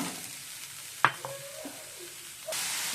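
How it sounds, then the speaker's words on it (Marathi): Jaggery stirred into a cooked beetroot mixture in a pan for an ukadiche modak filling: a close spoon scrape and a light clink over a faint, steady sizzle, with no voices. "गूळ व्यवस्थित आपल्याला मिक्स करून घ्यायचा आहे"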